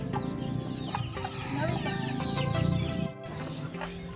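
Fighting roosters raised for cockfighting cluck and chatter after a feeding, a busy overlapping flock sound with repeated short calls, fairly close and steady, with a brief drop near the end.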